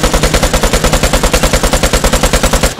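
Loud, close automatic gunfire in Vigor, a steady rapid stream of evenly spaced shots hammering for nearly three seconds before cutting off abruptly.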